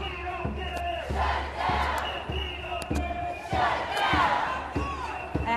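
A large crowd of Black Lives Matter protesters in downtown St. Louis chants in rhythmic, rising shouts with sharp repeated claps or beats, loud and close, voices blending into a roaring mass.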